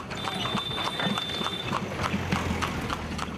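Hooves of a horse pulling a tamtam cart clip-clop steadily along a road in Bihar, a loud, even rhythm of hoof strikes over continuous road and traffic noise.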